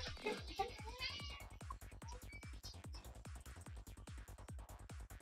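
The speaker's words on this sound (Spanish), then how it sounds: "voy a banear del cuarto al gato porque está como loco" A cat meows a few times early on, loud and close, over a steady pulsing rhythmic background beat that continues throughout.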